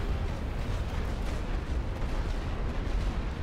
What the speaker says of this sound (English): Let's pull out of this trench while we're getting bombarded.